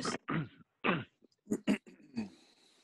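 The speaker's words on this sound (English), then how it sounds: "I was just clearing my throat." A person clears their throat in a few short, rough bursts followed by a small cough, close and fairly quiet in an indoor talk setting.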